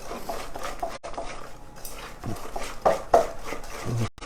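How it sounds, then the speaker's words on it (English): Whisk stirring a tahini, egg and egg white pie filling in a bowl, giving soft irregular scraping and clinking against the bowl sides, close and moderately loud with a few sharper taps. "I was not done with my whisk. Now I'm mixing this in"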